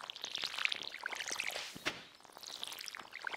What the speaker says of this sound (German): Dann wollen wir mal das Feld begießen.